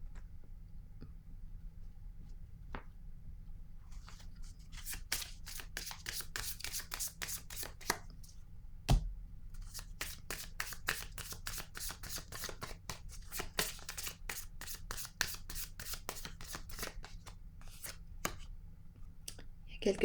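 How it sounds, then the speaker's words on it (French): Cards from a deck are laid down and handled, producing a quiet series of crisp rapid flicks and taps, close but faint, with a soft voice talking in places. "Je vais déposer une carte ici."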